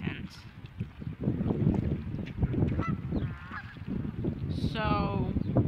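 Geese honk repeatedly near water, with several loud overlapping calls over wind and outdoor rumble, and people talk nearby.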